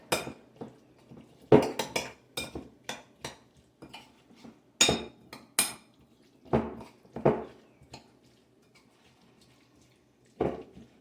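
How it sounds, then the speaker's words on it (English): Tuna salad seasoned with salt and pepper is mixed in a bowl, a utensil clinking and scraping against the dish in irregular bursts with quiet pauses between them. "I'm going to mix that up"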